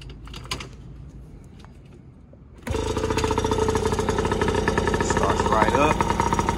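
A Yamaha PW50 dirt bike is kickstarted: a few quiet clicks and rustles, then the small engine abruptly catches and runs with a loud, close, rattling buzz that holds steady to the end.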